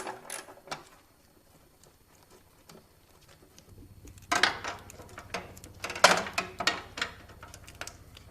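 A ratchet wrench works loose bolts under a 2010 Audi S4 during lower control arm replacement, giving quiet, scattered metallic clicks and ratcheting bursts that grow busier and louder partway through, with no talk.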